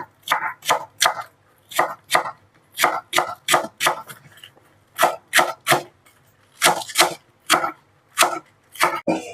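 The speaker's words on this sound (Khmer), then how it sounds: "បាទយើងហាន់វាមក" A knife chops green onion stalks on a board in quick bursts of three or four sharp, close knocks, separated by short pauses, with no talking.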